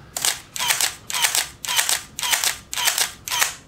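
A Minolta Motor Drive 1 on a Minolta X-700 camera fires in continuous low mode, a steady burst of seven crisp clicks, about two per second, close and alone with no voices.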